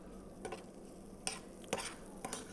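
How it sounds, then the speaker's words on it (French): Coarsely chopped garlic is stirred in a pan in a restaurant kitchen, a faint low sizzle punctuated by several sharp utensil scrapes and clicks, close by and without speech. "Toujours en continuant de mélanger."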